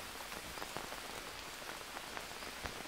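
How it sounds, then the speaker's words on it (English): Steady rain in the survival video game Green Hell, a dense, even patter of drops on surfaces with occasional slightly sharper hits, faint and continuous with no talking. "Make me sleep in the rain."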